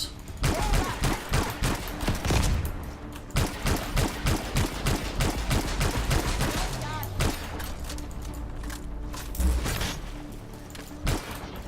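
Rapid bursts of video game gunfire in a Bastion-style action game crackle in dense volleys, then thin out into scattered shots, with brief talk over the top.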